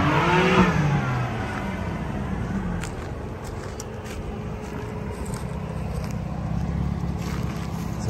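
A BMW M3 with full bolt-on modifications revs hard near the start, its engine note rising and falling, then settles into a steady droning run with a faint whine. No one speaks.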